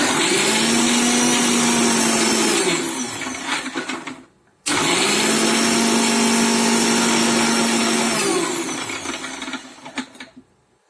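An electric blender grinds hummus with lemon juice and salt, giving a loud steady whirring roar that stops briefly, starts again, then winds down and sputters at the end.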